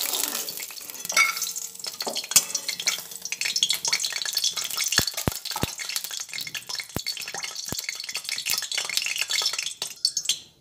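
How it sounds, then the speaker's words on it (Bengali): Bitter gourd pieces fry in oil for shukto, a bright, busy crackling sizzle close up, punctuated by sharp ladle taps and clacks against the pan, with no one speaking. "উচ্ছেগুলো তেলের মধ্যে দিয়ে প্রথমে ভেজে নিচ্ছি"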